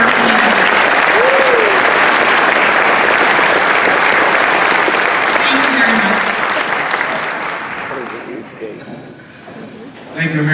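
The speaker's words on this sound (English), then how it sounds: "I hope that you'll all join me in a round of applause" Audience at a sheriff's office dinner applauding, a dense sustained round of clapping from a large room that fades out after about eight seconds, with a voice briefly audible underneath.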